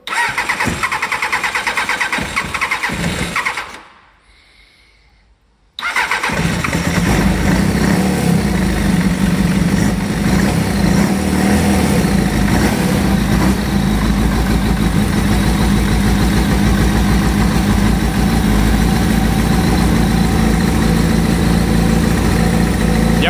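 A Suzuki GSXR 750 motorcycle cranks and fires, runs briefly, cuts out for a couple of seconds, then restarts and settles into a steady, close, loud idle that continues to the end.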